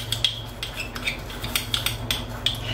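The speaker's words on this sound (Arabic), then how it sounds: "وغادي نبدا نحرك هذا الخليط" A metal spoon stirs a homemade mixture in a bowl, clinking against the sides in an irregular run of bright taps and scrapes, close and clear over a low background hum, with no voices.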